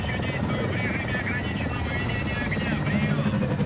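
Helicopters in Call of Duty Advanced Warfare, a dense, continuous rotor roar with buzzing whine, loud and close, with someone talking over it.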